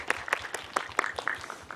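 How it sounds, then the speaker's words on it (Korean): Scattered applause from a small audience at a Busan International Film Festival guest talk for the film 최선의 삶, a few light, uneven claps spread across a short stretch. "박수 한번 부탁드립니다"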